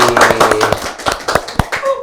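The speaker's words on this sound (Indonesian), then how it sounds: "Tepuk tangan dulu buat Kak Dini dong hari ini." A small group claps for a guest on a chat show, a quick burst of sharp, close hand claps that thins out into scattered taps and fades within two seconds.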